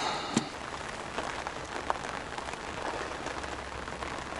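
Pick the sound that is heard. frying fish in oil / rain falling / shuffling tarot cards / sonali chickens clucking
rain falling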